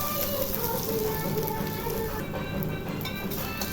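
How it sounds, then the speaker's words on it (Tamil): Crushed ingredients are sautéed with mustard seeds in hot oil for a tomato rasam, producing a continuous dense sizzle and crackle, close and steady for a few seconds. "கடுகு பிடிச்ச உடனே இடித்து வச்சதை போட்டு கொஞ்சம் வதக்கிக்கலாம்."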